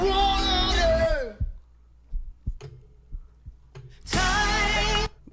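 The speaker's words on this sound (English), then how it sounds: "they add in the heartbeat at the very end" A heartbeat effect closes a song: soft, low thumps sound sparsely in a near-silent gap, set between louder bursts of music before and after.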